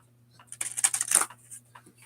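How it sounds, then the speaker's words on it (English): Tarot cards are shuffled close by in one short riffling burst, crisp and papery, with a faint hum underneath. "If you hear shuffling, I'm not going to gaslight you and say that you don't hear cards shuffling"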